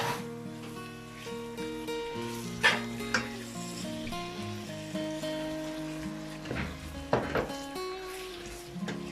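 Half a kilo of boneless chicken fries with cumin in a pan, a soft continuous sizzle with a couple of sharp clatters of utensils against the pan, under steady background music and no talking.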